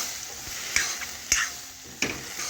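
Chickpeas and potatoes being stirred with spices in a pan, a soft sizzle under a few sharp scraping strokes spaced about half a second to a second apart, close and fairly quiet.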